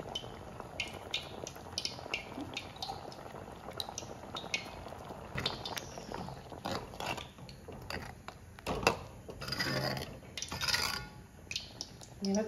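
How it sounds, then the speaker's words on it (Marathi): Malvani onion and potato curry (kanda batata rassa) boils in a pot, giving irregular bubbling pops and gurgles at close range over a low simmering bed, with no one talking. "तर ह्याच्यात छान उकळी आलेली आहे"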